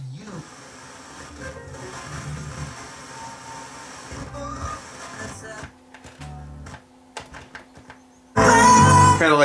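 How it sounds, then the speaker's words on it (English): NAD 7125 receiver with an analog-style tuner scanning through stations: shifting hiss, static and faint fragments of broadcasts sweep past, with brief gaps, ending in a burst of louder station audio. "I love it where as you're scanning through it, you can hear the stations in the background"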